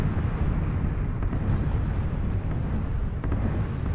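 Bombs from a red zone bombardment in the video game PUBG rumble continuously with a dense, deep roar of overlapping distant blasts, steady and loud throughout.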